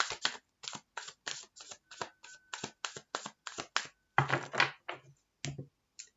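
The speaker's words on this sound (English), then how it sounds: "Do one more shuffle." Tarot cards being shuffled in a room with a ceiling fan running: a rapid series of crisp riffling bursts, evenly spaced, then a few denser, heavier shuffles near the end, close and clear with no talking.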